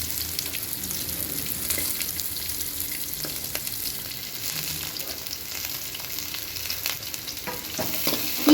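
Chopped onion and garlic fry in a pan, giving a steady close sizzle broken by repeated stirring scrapes, with no voices.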